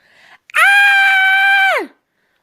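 A single long, loud, high-pitched scream rings out in front of a building, holding steady for over a second before trailing off downward, preceded by a faint brief voice.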